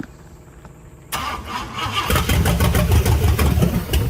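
The swapped 500ci engine in a 1962 Cadillac, stuck before this, cranks after a short quiet lead-in and then fires, settling into a loud, rough running rumble close by.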